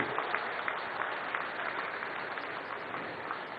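A political rally audience applauds Nitin Gadkari with a sustained, fairly distant wash of clapping that stays even throughout, with no clear voices standing out.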